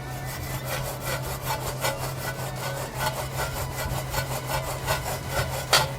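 A stiff-bristled brush scrubs grime off the wheel-weight area of a car wheel during a wash, giving a steady, rapid, gritty scraping rhythm close up over a constant low hum.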